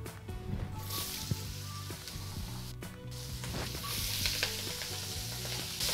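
Vegetables sizzle and fry in a pot with stirring and scraping, a soft continuous crackle with occasional clinks and bumps, fairly quiet and close, without talk.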